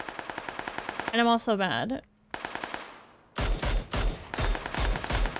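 Rapid automatic gunfire from a shooter video game rattles in loud bursts, with a player's voice speaking over and between the shots.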